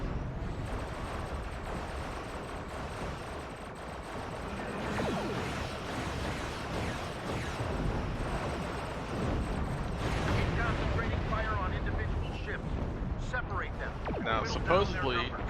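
A Gatling emitter weapon in a space combat video game fires a continuous roaring, crackling barrage. The dense burst is dotted with energy zaps and stays fairly loud throughout.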